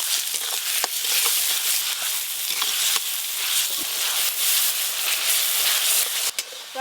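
Chopped tomatoes hit hot oil in a pan with slit green chilies and chopped onions, a loud, steady sizzle and hiss with occasional stirring clicks and no talking.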